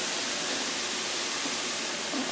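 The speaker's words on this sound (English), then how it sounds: "we're going to saute this for about a minute or 2 until it's translucent" Chopped ingredients sautéing in a pan just after chicken, a steady unbroken sizzle heard close up, with no talking over it.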